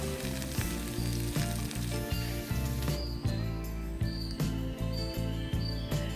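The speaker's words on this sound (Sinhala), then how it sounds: "ඒ ටික ඉතින් පොඩ්ඩක් රන්වන් පාට වෙනකම් හොඳට ටෙම්පරාදු කරගන්නවා." Ginger, garlic, curry leaves and crushed green chili frying in hot oil as a tempering, a steady close sizzle running throughout with faint stirring clinks.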